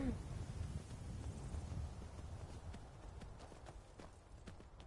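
Hooves clip-clop on a horse in the video game Skyrim, a fairly quiet, steady trotting rhythm over soft wind-like background noise.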